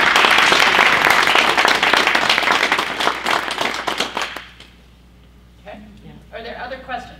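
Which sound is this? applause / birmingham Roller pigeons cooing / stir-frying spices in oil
applause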